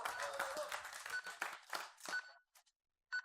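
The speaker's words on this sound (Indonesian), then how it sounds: "kasih tepuk tangan yuk buat Jerome yuk." A small studio audience at an Indonesian TV word quiz show claps in a short, scattered burst of applause that thins out and stops, with a brief spatter of claps after the pause.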